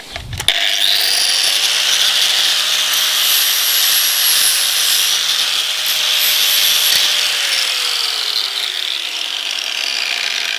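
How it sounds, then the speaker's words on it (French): An angle grinder works along the edges of throwing knives made from old shear blades, a continuous loud high-pitched whine and grinding hiss held steadily for several seconds after a sharp start. "je vais mettre un petit coup de meuleuse sur les arêtes"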